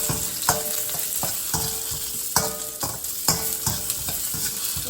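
Onion and mushrooms stir-fry in a hot pan for chow mein, a steady close sizzle broken by repeated sharp scrapes and clatters of the utensil as the vegetables are tossed, with no voices.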